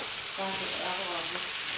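Adobo with mushrooms and string beans sizzling and frying in a pan, a steady broadband hiss with faint tonal voices briefly mixed in.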